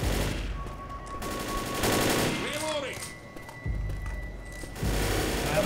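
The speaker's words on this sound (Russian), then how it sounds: "Давай, это модная стрельба." Gunfire in the Left 4 Dead co-op zombie game, a loud dense volley of shots that carries on through most of the stretch, with players talking over it.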